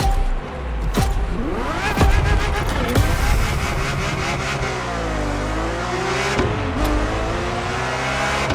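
A Ferrari F50 supercar in a racing game roars loudly as it accelerates through gear changes, engine pitch sweeping up and down with sharp shift cuts and some tire noise, no speech over it.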